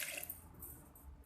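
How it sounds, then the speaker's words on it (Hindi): Water being poured into blender juice of apricot and beetroot, a short, faint liquid splash and trickle lasting about a second, with no talk over it. "इसके बाद 1 गिलास हम पानी डालेंगे"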